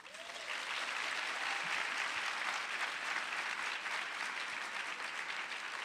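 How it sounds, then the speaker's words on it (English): Sustained audience applause for an author at a literary talk event, dense and steady from the start, filling the room at a strong, even level for several seconds with no voices on top. "Let's give her a round of applause."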